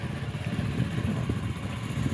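A motorcycle rides along a village road past maize fields, its engine giving a steady, fairly loud low rumble with slight fluctuations and rushing wind noise, no voices over it.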